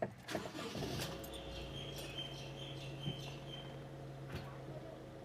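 A 2021 Honda WR-V SV diesel car starting up, with a short crank burst at the outset settling into a steady low idle hum with a faint whine, heard close and moderately quiet, with a few light clicks and no talk.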